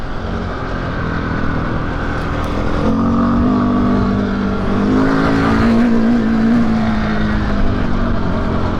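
The engine of a KTM 690 motorcycle with a Rade Garage lite kit fairing runs steadily on a winter test ride, a loud close drone under wind rush, with its pitch rising as the bike accelerates midway.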